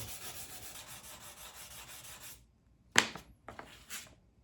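Hand sanding a drop point knife blade with a sheet of sandpaper: a steady, close scratchy rubbing for a couple of seconds, then a pause and a few short sharp scrapes and rubs, with no talking.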